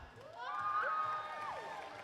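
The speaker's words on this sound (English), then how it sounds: "Big cheer, then you get a big clap." At a FIRST LEGO League final in the UK, a hall crowd cheers for a LEGO team, a faint distant roar of voices with whistling tones rising over it.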